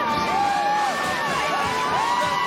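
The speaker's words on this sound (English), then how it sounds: "It's the Georgia fans making noise now." Georgia fans in a big stadium crowd cheering and whooping at the Sugar Bowl college football game, a steady roar with shrill rising whistles and shouts throughout.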